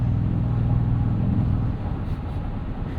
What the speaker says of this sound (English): These turbos are just making noise all the time, and I love it.